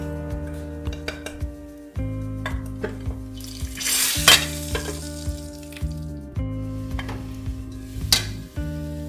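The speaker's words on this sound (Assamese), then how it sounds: "বইল কৰি মই কেৰাহীত দি দিছোঁ।" Boiled pork fries without oil in a hot wok (kerahi) for a pork with lai xaak dish, sizzling steadily with repeated scraping stir strokes and light clinks of a utensil against the pan.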